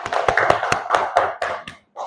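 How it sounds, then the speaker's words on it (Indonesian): Applause in a classroom: a handful of sharp, separate claps at an uneven pace, close and fairly loud, ending in a short pause and then a voice. "Oke, tepuk tangan."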